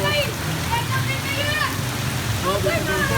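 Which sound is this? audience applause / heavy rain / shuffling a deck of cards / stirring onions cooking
heavy rain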